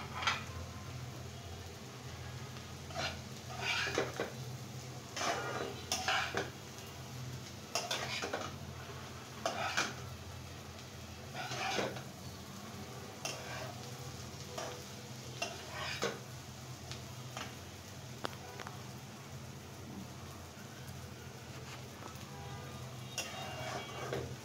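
Bottle gourd noodles tossed with ground spices in a pan, sizzling softly under repeated clinks and scrapes of a spatula stirring at an uneven rhythm.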